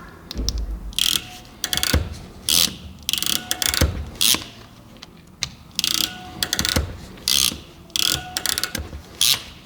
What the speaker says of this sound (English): and then give them a good crimp